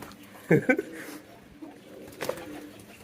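A lost pigeon tries to get into a farm, giving a few short, close cooing calls in a quick cluster, then a softer call a little later, against quiet background noise.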